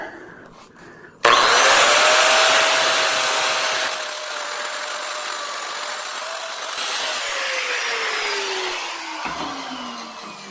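A 5-inch angle grinder running at up to 9,000 RPM grinds stainless steel, starting abruptly into a loud, sustained high-pitched whine whose tone shifts slightly as pressure changes.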